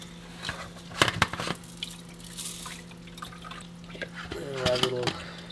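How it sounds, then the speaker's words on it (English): Salt water poured into a fluidized media reactor filter holding carbon, heard as intermittent splashes and drips, quiet and close, with a faint steady hum underneath. "put a bit of salt water in"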